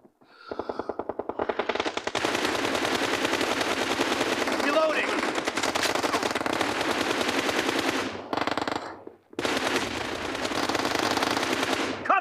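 Rapid automatic gunfire in the mobile shooter BGMI during team deathmatch, sustained and loud in long bursts, with one brief pause before the firing resumes.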